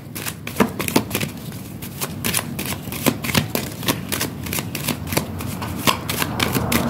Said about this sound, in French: On me demande de changer les cartes.